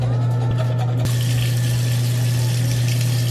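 A bathroom tap runs in a steady loud gush during a morning tooth-brushing routine, with a constant close rush of water and a low hum beneath it, no voices.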